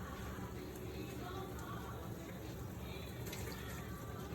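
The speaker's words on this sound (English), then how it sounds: "we're gonna put about 2 cups of water over there" Water pours steadily over beef short ribs in a pressure cooker, a continuous close splashing wash with no talking.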